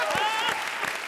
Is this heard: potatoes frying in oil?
no